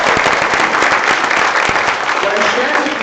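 Audience applause in a presentation hall, a dense wash of many hands clapping at once, steady and fairly loud for the whole stretch.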